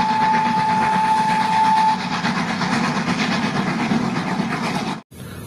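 Steady rolling rumble with a faint rhythmic clatter from a Rail King toy train running along its track, continuous and fairly close, with a brief high whine early on.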